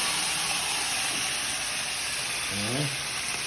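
A pressure cooker hisses steam while cooking Filipino kare-kare with oxtail and tripe, a steady, loud broadband hiss with a high whistling tone running throughout. A brief low rumble comes near the end.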